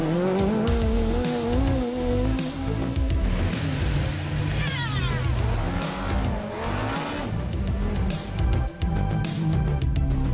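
A Ferrari Monza SP2 engine roars loudly and continuously, revving up and down through gears with a deep, aggressive growl and occasional tire squeal.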